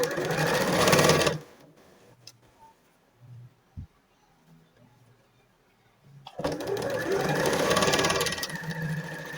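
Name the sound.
sewing machine stitching a doll dress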